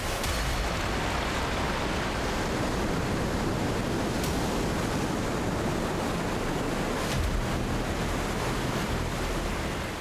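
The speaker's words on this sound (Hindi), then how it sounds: "आप इस तेज बहती नदी की आवाज सुन सकते हैं जो किसी को भी यहाँ खड़े रहने पर डराती" The fast-flowing Alaknanda river roars out of the mouth of a glacier in Uttarakhand, a dense, constant, loud rush of water with steady wind-like noise throughout and no voices.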